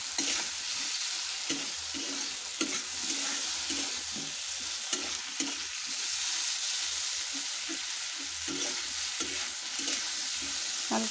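Vegetables such as pumpkin, pointed gourd and greens stems stir-frying in a pan over high heat, a steady close sizzle broken by repeated scraping stirs, with no talking.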